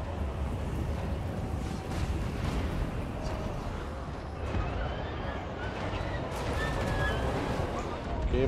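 Tower gunfire booms through a Total War: Warhammer 3 siege battle, with repeated heavy low blasts and crashes rumbling under a thick battle din, some sharper impacts standing out near the end.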